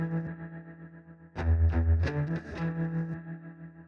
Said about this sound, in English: let's go a little even crazier and add some of the vibrato into the mix.